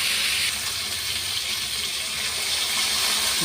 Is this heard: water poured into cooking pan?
yes